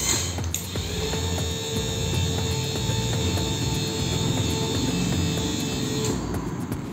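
A child rescue smart robot's mechanism lifts and turns with a steady motorized whir and faint ratcheting clicks, loud and close, running about six seconds before winding down.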